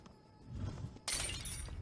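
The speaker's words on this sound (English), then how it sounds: "Look at that smash. That is just the pot smashing smash." A clay pot smashing in the game Five: Guardians of David: a sudden bright shatter after a second of low background rumble, loud and close, with the breaking debris ringing on to the end.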